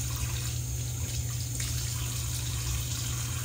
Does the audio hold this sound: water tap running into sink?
yes